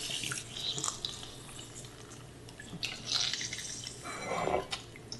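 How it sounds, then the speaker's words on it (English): Water drips and trickles from soaked shiitake mushrooms squeezed by hand after hours in warm water, with a few soft splashing bursts, close and fairly quiet, no talking. "And squeeze out all water."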